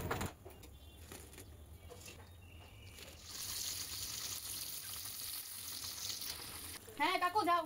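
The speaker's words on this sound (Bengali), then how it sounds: "আর একে একে আমি সব ভাজাগুলো ভেজে নিচ্ছি।" Potato, raw banana, pointed gourd, okra and eggplant slices fry in hot oil with a soft, steady sizzle and occasional stirring. Birds chirp briefly toward the end.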